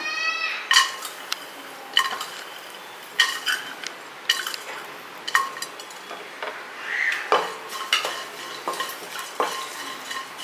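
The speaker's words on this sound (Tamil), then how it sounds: "இப்போ இதில் பச்சை மிளகா போட்டுக்கிறோம்" Green chilies go into a pan for an instant pongal mix, with repeated metallic clinks and scrapes of a spatula stirring against the pan and a faint sizzle beneath.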